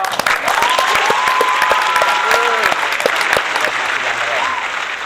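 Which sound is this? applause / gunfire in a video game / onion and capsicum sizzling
applause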